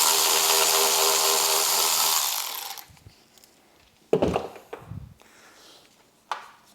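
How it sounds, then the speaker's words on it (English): A power tool with a 13 mm socket whirs loudly and steadily for a few seconds while backing out the bolts at the base of a Harley-Davidson motorcycle's battery tray, followed by a few scattered metallic clunks and taps. "the same tool we just used to take our gas tank bolts out are going to take the two bolts out at the base of the battery tray"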